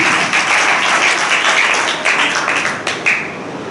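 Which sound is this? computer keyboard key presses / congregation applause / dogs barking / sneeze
congregation applause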